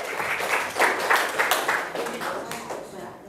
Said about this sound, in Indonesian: untuk ketiga jawaban kita tepuk tangan dulu